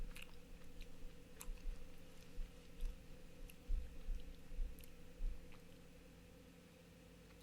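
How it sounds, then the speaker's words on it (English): Wasabi-flavoured Pringles potato crisps crunched and chewed close to the mouth, giving a run of soft, irregular bites and crackles over a steady low background hum, with no talking. "Wow, that's an amazing crunch sound."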